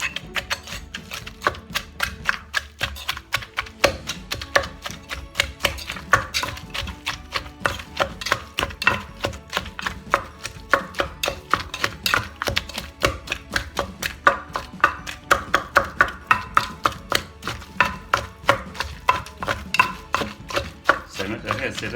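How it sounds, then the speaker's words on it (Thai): Jackfruit and tomato pounded in a mortar for northern Thai tam khanun, a steady run of loud, close, rhythmic thuds and wet knocks continuing throughout with no talk. "เสริมมะเขือเทศตำไปด้วยนะครับ"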